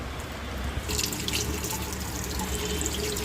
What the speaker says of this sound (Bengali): এবার এটাকে জল দিয়ে ধোবো